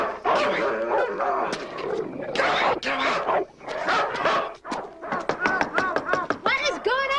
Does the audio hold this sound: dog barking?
yes